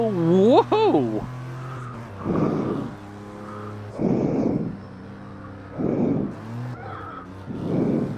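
A car in a racing video game brakes hard and skids, with repeated tire squeals and scrubbing bursts over a steady engine drone, while a voice talks throughout.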